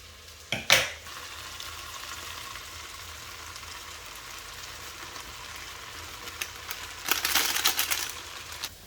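Onions browning with ginger and garlic in a pan for biryani give a steady low sizzle, with louder bursts of frying and stirring near the start and again toward the end.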